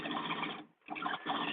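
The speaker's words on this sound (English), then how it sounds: "So I'm just stitching my center backs together." A sewing machine runs in a steady, fast whirring stitch while center back seams are joined, pausing briefly midway before resuming at full speed, close and clear.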